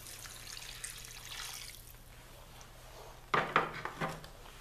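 Water is poured into a pot of browned hamburger for a one-pot hamburger rice casserole, starting as a soft hiss, then several close splashy gurgles near the end.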